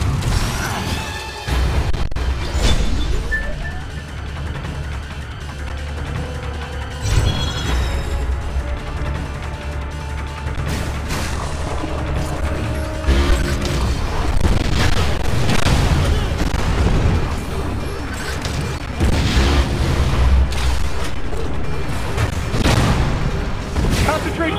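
Missiles fired in Metroid Other M during a chaotic battle, with repeated booming launches and mechanical clanks over continuous loud combat noise and background music, with people talking.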